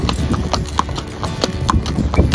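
Horse hooves clip-clop in a steady, fairly close rhythm during a ride toward a village, with a few sharper strikes standing out over a low background.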